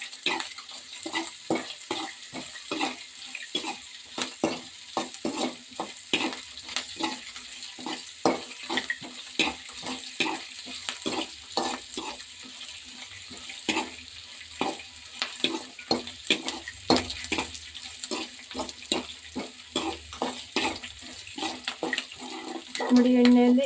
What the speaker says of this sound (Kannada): ಈಗ ಈರುಳ್ಳಿ ಮೆಣಸಿನ್ಕಾಯಿನ ಚೆನ್ನಾಗಿ ಮಾಗಿಸ್ಕೊತೀನಿ ನೋಡಿ ಎಣ್ಣೆಯಲ್ಲಿ